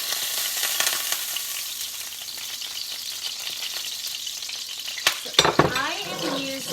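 Avocado oil sizzles and fries steadily in a preheated wok, a bright continuous hiss near the pan, broken near the end by a few sharp stirring clinks and a brief spoken exclamation.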